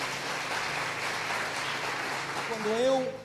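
Church congregation applauding the Lord during a sermon, a broad wash of clapping and crowd noise, with a voice rising briefly near the end.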